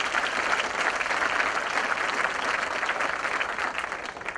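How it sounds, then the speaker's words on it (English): Audience applause at a Vancouver real estate event thanking a policy office, a full, even wash of clapping from a crowd that holds steady and tapers slightly toward the end. "yeah, round of applause"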